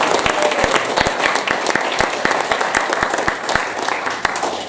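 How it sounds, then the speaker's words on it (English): Audience applause at a political party conference, a steady round of clapping with sharp individual claps standing out against the dense patter, sustained at an even level throughout. "so we can have a little round of applause"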